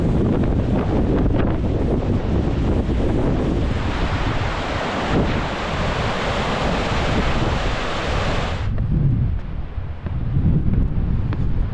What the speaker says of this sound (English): The wind is somehow coming from all directions.